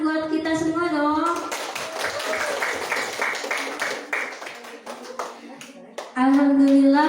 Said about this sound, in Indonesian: Kita tepuk tangan buat kita semua dong.